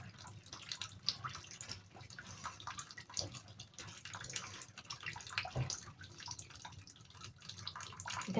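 Ingredients are washed and squeezed by hand in water for achara, with irregular splashing, sloshing and dripping close up, in uneven bursts throughout.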